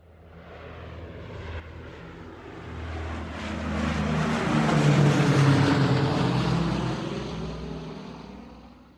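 A fixed-wing airplane passes by, its engine drone swelling from moderate to loud near the middle and fading again, with no talk over it.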